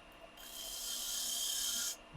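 A spindle gouge cuts a swoop into a wooden spurtle on a lathe, giving a steady bright rasping hiss that swells and holds for about a second and a half before stopping abruptly, close and alone.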